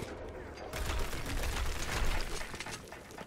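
Gunfire in the video game Army of Two: a dense, rumbling wash of distant shots and impacts that swells after a quiet start and stays steady.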